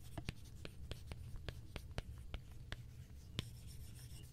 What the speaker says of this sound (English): It also sounds and feels natural when writing